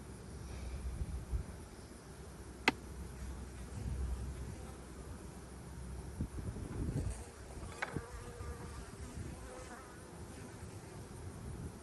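Bees buzz continuously in a dense, steady drone around honey-filled hives at a pasture apiary, close by, with occasional louder passes and faint clicks over the hum.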